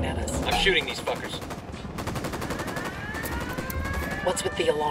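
Rapid bursts of automatic gunfire in the video game Ghost Recon Wildlands crackle close and loud, with voices briefly heard amid the shooting.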